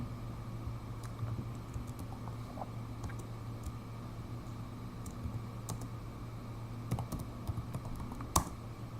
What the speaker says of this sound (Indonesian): Terus aku ketik kayak tadi nih